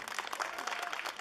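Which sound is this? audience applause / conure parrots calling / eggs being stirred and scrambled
audience applause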